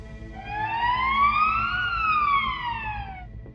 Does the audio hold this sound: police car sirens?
yes